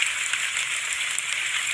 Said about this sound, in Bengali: এই যে ঝড় বৃষ্টি শুরু হয়ে গেল